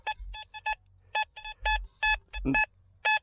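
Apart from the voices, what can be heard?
XP Deus II metal detector signal tone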